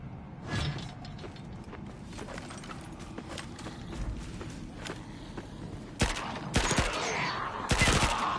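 Gunfire rattles in Dying Light 2, scattered shots at first, then denser bursts near the end, loud and close amid clattering game noise, with no talking.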